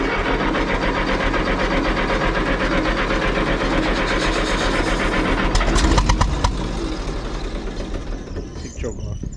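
Old Minneapolis Moline GTB tractor engine cranking, then firing with a steady, loud mechanical chug that runs throughout and swells near the middle before easing off.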